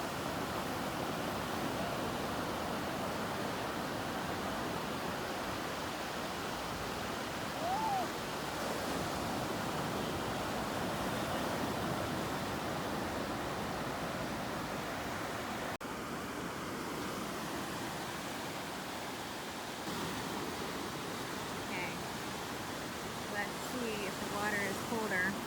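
Waves roll onto a cold beach near Santa Barbara, a steady broad wash of surf with gentle swells, heard at a moderate distance and fairly faint, with no voices in it.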